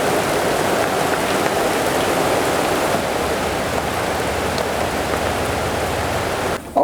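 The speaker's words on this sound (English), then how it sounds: "we got interrupted for a rain shower" A steady, dense rain shower pours outdoors by a front porch, a constant loud hiss of drops on surfaces with no breaks, ending with a brief bump.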